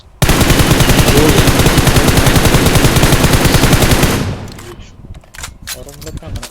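Sustained automatic gunfire in a winter-map multiplayer shooter game, a loud rapid burst lasting about four seconds before cutting off into scattered quieter clicks and faint game sounds.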